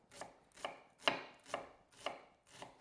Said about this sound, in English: Okay, so slice in red onion. Again, super, super fine.